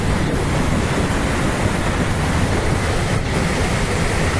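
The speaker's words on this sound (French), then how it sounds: "Alors dans le dos on a des belles cascades" A rushing waterfall cascade roars as a loud, continuous broadband wash of water with no breaks, heard alone at close range.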